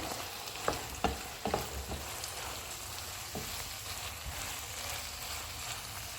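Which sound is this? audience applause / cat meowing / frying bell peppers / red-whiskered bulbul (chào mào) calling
frying bell peppers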